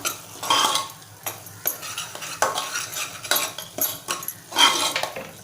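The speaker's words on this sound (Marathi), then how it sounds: "दीड चमचा आपल्याला मालवणी मसाला घालायचा आहे आणि छान एकजीव करून घेऊया" A metal spoon stirs turmeric and Malvani masala into mutton in a pan, scraping and clinking in repeated uneven strokes close by, with a faint sizzle beneath and no talking.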